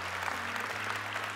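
Church congregation giving a hand clap during a worship service, a steady wash of many hands clapping at moderate distance over a low sustained organ-like hum.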